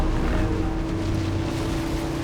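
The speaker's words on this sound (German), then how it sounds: "Das war der Motor." Tank engine in the WWII strategy game Men of War: Assault Squad, a steady droning rumble with a constant low hum, loud and continuous with no talk.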